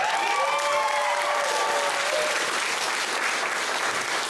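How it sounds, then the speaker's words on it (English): Wedding guests break into dense, sustained applause for the bridal party at a reception, a full room of clapping, with a few voices and tones carrying faintly over it. "Could we please start by having a big round of applause for the fantastic bridal party?"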